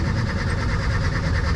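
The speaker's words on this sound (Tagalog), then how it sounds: "Mababa pa yung RPM niya yun, kaya nanginginig." An engine idles at low RPM with a deep, shaking, uneven rumble, heard loud and close throughout.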